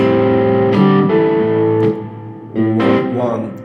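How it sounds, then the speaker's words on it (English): Electric guitar with distortion playing a syncopated bass note ahead of the bar, several plucked notes with a short gap, spoken words mixed in. "this syncopated bass note, and it comes obviously before the next bar, which sounds like this"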